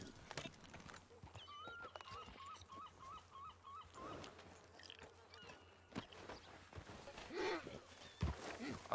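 In the El Rancho RP game, a horse's hooves clip-clop in scattered steps with snorts and whinny-like bursts, fairly faint, alongside honking fowl calls and game chatter with voices talking.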